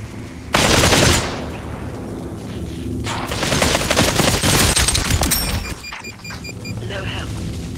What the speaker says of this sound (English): He shot me from far.